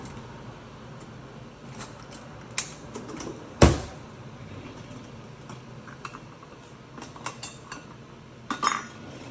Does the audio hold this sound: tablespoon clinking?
yes